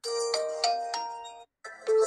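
A bright electronic ringtone on an Oppo Reno 11 5G phone plays a short melodic chime pattern, pausing briefly before starting again, clear and close.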